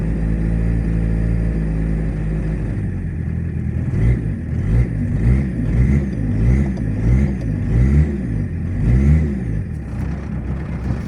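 A VW Passat B3 engine runs steadily at idle, then rises and falls in a series of rhythmic revs, loud and close, with no voices.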